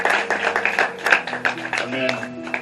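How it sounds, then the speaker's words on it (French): A church congregation claps in cheering for a mother during a Sunday worship service, several quick bursts of hand claps with voices and music tones sounding underneath. "s'il vous plaît, des acclamations"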